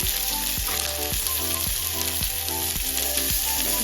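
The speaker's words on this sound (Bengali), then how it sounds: "মশলাটাকে ভালো করে ভেজে নিয়েছি" A masala of coarsely chopped onion, garlic, ginger and salt sizzles steadily in a pan, a continuous frying crackle with a regular rhythmic beat pulsing underneath throughout.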